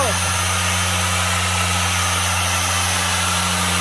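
A polishing machine buffing a vehicle's paint gives a loud, steady motor whine that runs continuously throughout at close range.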